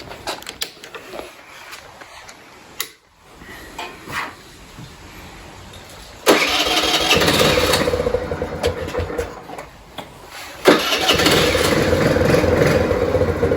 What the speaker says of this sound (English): we'll fire this guy up right now